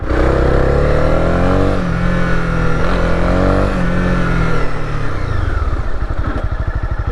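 A Honda CB300R motorcycle with a 286cc engine runs hard at around 132 km/h in fourth gear. Its loud, close engine drone holds steady and shifts pitch, then breaks into a rougher, pulsing note near the end.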